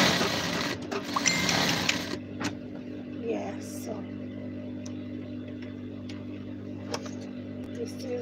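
A sewing machine stitches a uniform: a loud, fast mechanical whirr runs for about two seconds, then drops to a quieter steady hum with light room noise.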